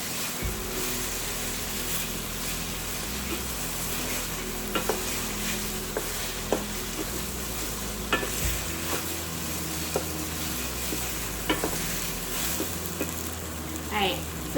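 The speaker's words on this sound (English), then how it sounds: "I'm just going to go ahead and add in the tofu. And we're just warming this up since the tofu's already been fried." Already-fried tofu is added to a pan and warmed, giving a steady low sizzle with a spatula stirring and scraping in sharp intermittent clicks, close and continuous for several seconds.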